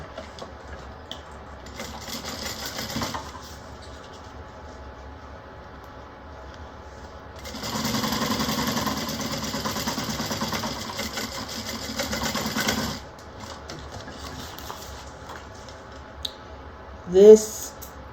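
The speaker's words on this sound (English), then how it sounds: "I'm going to go ahead and I'm going to sew this one on at a 1/4 inch seam" Sewing machine stitching a bag lining seam at a quarter-inch allowance, whirring in short bursts with a longer steady run in the middle, close and clear, with a little handling noise between runs.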